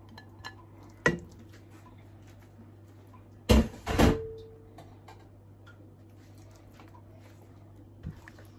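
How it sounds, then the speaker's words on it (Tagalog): A spoon stirs thick purple yam ube halaya in a pan, making a sharp clink, a short burst of scraping and knocking, then a faint tap against a quiet background. "Haluin lang natin."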